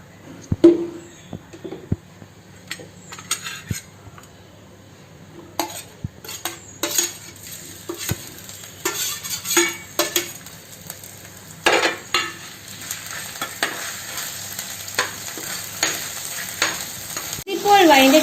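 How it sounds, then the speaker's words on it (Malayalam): Ginger garlic paste sautés in coconut oil in a hot clay fish-curry pot for Kerala-style mackerel curry, with a steady sizzle and intermittent scraping and clinking as a spoon stirs against the pot. "മീൻചട്ടി ചൂടായതിനു ശേഷം കുറച്ച് വെളിച്ചെണ്ണ ഒഴിച്ച് ജിഞ്ചർ ഗാർലിക് പേസ്റ്റ് വഴറ്റിയെടുക്കാം"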